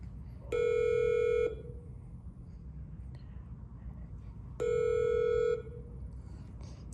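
Two long ringback tones of a telephone call, each about a second, spaced roughly four seconds apart against quiet room noise, heard while calling a county sheriff's department office.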